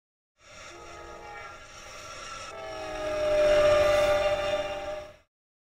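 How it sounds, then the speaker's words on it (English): A passenger train rumbles past quickly with its horn sounding in a long, sustained blast that swells louder as it approaches, then cuts off. "here it comes, moving right on through rather quickly"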